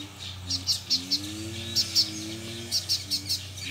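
Coleiro seedeaters, a black male with a female nearby, give repeated short high chirps and tweets in quick clusters over a low steady background hum, fairly faint and without speech.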